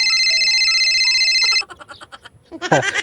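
A bright electronic phone ringtone melody plays loudly for about a second and a half, then a voice starts talking.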